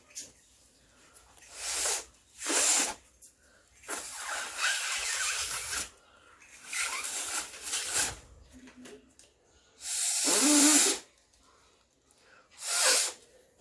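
Breath blown in repeated short puffs into the hole of a folded paper origami balloon, about seven breathy bursts spaced across the stretch, close and fairly loud with quiet gaps between.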